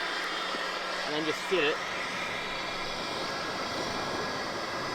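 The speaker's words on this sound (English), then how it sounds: "we just had the King Chrome blower going" A King Chrome battery-powered blower running at a campsite to feed a fire, a steady whooshing roar that holds constant while someone briefly speaks over it.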